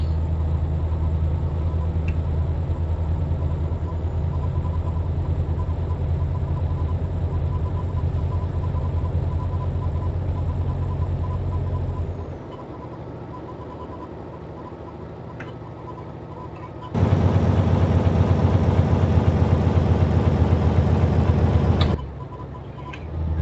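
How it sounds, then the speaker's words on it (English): Truck engine in Euro Truck Simulator: a steady mid-loud engine drone that drops away near the middle, then returns as a louder, bright roar of engine braking for several seconds before cutting off. "A bit of engine braking there"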